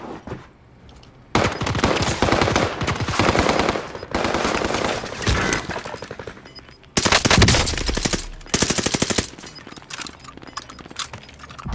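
Automatic gunfire in the video game Call of Duty Warzone on Rebirth Island, long rapid bursts of loud machine gun rattle with brief gaps, close and dominant throughout.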